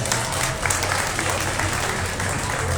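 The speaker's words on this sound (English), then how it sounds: "Let's give these exhibitors another nice big round of applause." A crowd applauds beef cattle show exhibitors after a class of calves, a thick continuous roar of clapping that stays loud and even for its brief length, with faint crowd murmur underneath.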